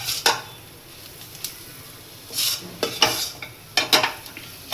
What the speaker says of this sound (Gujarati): એમાં બેસન થોડું શેકી લેવાનું.